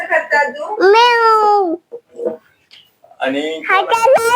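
A young child imitates a cat's meow with drawn-out, wavering vocal mews, alternating with an adult speaking nearby in a quiet home setting.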